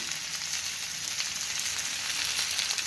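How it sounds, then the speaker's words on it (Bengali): A potato curry fries in a pan with a steady, bright sizzle, continuous and close, with no talking. "হালকা একটু নাড়াচাড়া করে দেবো স্বাদ মতো নুন"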